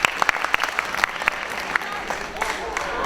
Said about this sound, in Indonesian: Tepuk tangannya untuk semua kekeluarganya yang sudah hadir di sini.